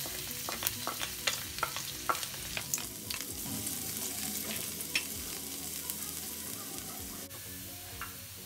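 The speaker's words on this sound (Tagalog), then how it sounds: "bali igisa na natin. So una yung bawang." Garlic sautéing in oil in a pan for ginisang munggo, a continuous close sizzle with frequent sharp spatula clicks and stirring scrapes, with no voices.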